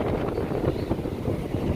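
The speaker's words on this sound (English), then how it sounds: "It's windy out here" Wind buffeting the microphone out on open water during a redfish fishing trip, a continuous low rumbling roar with gusty swells, loud and close, with no talk.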